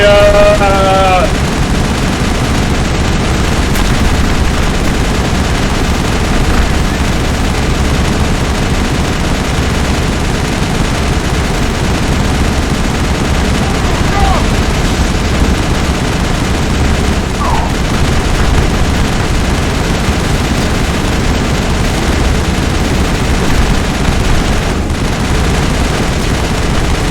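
Sustained gunfire from a Mass Effect 1 battle, a dense, steady barrage of rapid shots running for the whole stretch, loud and close, with brief voices calling out during the fight.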